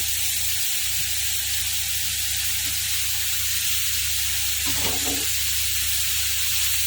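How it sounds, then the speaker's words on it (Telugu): Cut carrots for carrot curry land in a hot pan and sizzle with a steady, loud frying hiss, and a brief clatter of stirring comes near the end. "దీనిలో కట్ చేసి పెట్టిన క్యారెట్ కూడా వేసేస్తున్నాను."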